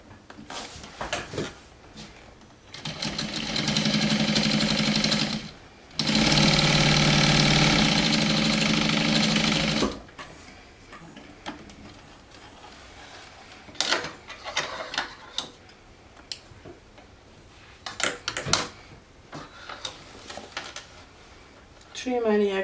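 A sewing machine stitching a pocket closed on a Sew Sweetness Tower Messenger bag, with two loud sustained runs of whirring stitching in the middle and quieter, intermittent mechanical clicks and handling noises on either side.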